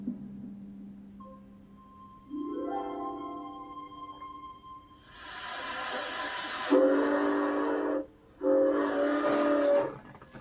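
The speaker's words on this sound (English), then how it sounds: "locomotive number 482 began her new life on May 2nd, 1992, as she pulled the world-famous Silverton train out of Durango" Durango and Silverton steam locomotive number 482 sounds a long, tonal whistle that rises, then gives two loud sustained blasts separated by a short gap, heard up close over a low rumble of the running train.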